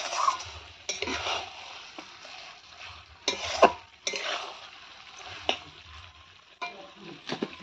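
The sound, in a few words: goat meat being cooked and stirred in a pan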